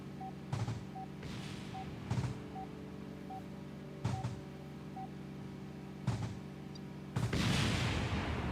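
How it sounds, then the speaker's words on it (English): Distraction missiles fire in a plane video game as repeated sharp booming launches, roughly every two seconds over a droning engine hum and small beeps, ending in a longer rushing blast. "As you can see, distraction missiles are in full effect."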